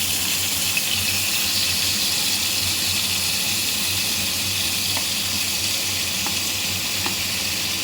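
Tomato pieces sizzle and fry in a hot pan for ridge gourd chutney, a steady, dense hiss with watery crackle running throughout, close and even, with no talk.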